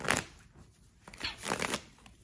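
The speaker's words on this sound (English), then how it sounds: "I'm just going to shuffle these cards a little bit." Tarot cards being shuffled close at hand, with two distinct papery riffling bursts separated by a brief quiet gap, and no talking.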